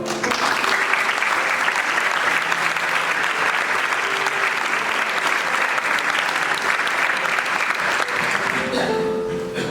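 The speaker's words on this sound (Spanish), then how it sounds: "Un aplauso para los familiares, por favor." At a nautical school graduation, the audience applauds the graduates' families. Sustained, dense clapping fills the hall almost the whole time and tapers at the close, with faint voices beneath.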